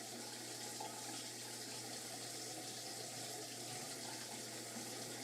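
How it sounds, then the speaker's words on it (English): Steady running water, like a shower spraying in a bathroom, hisses continuously and evenly at a moderate distance behind a faint low hum from a streamed game session. "There's somebody literally in the shower while he's recording."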